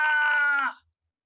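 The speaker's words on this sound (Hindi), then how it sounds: "साथ ही गूंजी कई चीखें भी।" A sound-effect scream rings out after a building explosion in a comic audio drama, one loud, sustained, high wailing cry that holds and then cuts off abruptly into silence.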